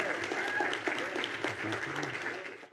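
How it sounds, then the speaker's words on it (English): Audience applause for a young presenter at an event, a steady faint wash of clapping that carries through the clip and stops abruptly near the end. "Let's give him another round of applause. Big round of applause."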